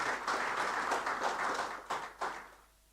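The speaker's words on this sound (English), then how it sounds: "Can we give Christine another round of applause?" Conference audience applauding a speaker at a national cyber security event, a dense wash of clapping that holds steady, then thins into a few last claps and fades out.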